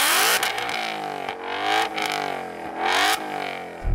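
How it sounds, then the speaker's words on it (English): A sports car fitted with an upgraded exhaust accelerates hard in a drag race. The engine roars loud and close, rising in pitch through several quick gear changes, each marked by a brief dip before the next climb. "That's the upgraded exhaust. Clive Sutton has fitted to that car."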